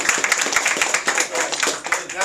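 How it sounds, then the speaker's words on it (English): Audience clapping at a real estate sales event: dense, uneven applause that runs through the whole moment at a steady, fairly loud level, with no pause. "Give a round of applause for"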